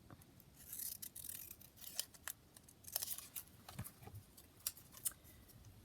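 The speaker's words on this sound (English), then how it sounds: "Just take one of those, cut that down." Scissors snipping small paper label pieces for a junk journal at a desk, quick clustered snips with pauses, quiet and close, no talking.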